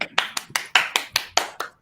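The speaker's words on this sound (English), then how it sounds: "Golf clap." Soft, sparse golf clap: about nine evenly spaced, light hand claps from one or two people, close and quiet, with no talking.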